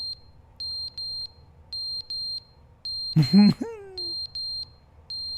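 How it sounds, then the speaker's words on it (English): In the video game The Stanley Parable, a fire alarm gives short high electronic beeps in an irregular repeating pattern, steady and clear; a voice briefly cuts in partway through. "No battery in the fire alarm."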